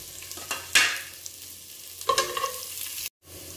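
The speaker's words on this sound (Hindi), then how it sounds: "जीरा क्रैकल हो जाए फिर हम डालेंगे अनियंस" Onions, green chili and cumin frying in a pan for cheese and paneer upma, with stirring scrapes, a couple of louder clatters and a soft sizzle, close by and moderately loud, ending in a brief cut.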